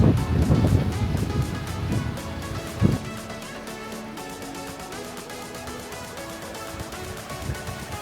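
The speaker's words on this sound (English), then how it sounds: "the wind is really picking up." Strong wind buffets the microphone at the beach in Benidorm, with heavy rumbling gusts at the start and again near three seconds, then easing into a steadier breezy roar with light ambient tones underneath.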